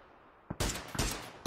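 Several loud gunshots go off in a video game shooter, a sharp burst followed by a couple of separate cracks, close and prominent with no talking.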